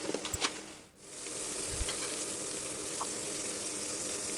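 Spiny gourd (kakrol) pieces frying in oil over a medium flame: a steady, dense sizzle holds close and even throughout, with a few faint clicks and taps near the start and no one talking.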